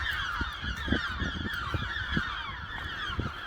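Repeated short gull calls cut through a steady rush of wind, several cries spaced irregularly at a moderate distance.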